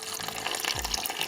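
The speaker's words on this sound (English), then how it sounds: "Top it up with water." Bottled water poured from above into a spider's water bowl, a short, steady splashing trickle, close and alone.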